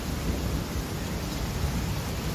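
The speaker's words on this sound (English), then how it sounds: "the storm that brought heavy rain" Heavy rain from a thunderstorm on the Gold Coast, Queensland, a loud steady roaring wash of downpour with a low rumbling undertone, unbroken throughout.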